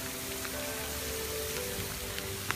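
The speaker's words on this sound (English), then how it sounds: "Maybe we're getting some serious hail now." Rain drums steadily in a Wyoming storm, with occasional sharper taps that could be hail striking nearby, a continuous loud wash heard outdoors with no talk.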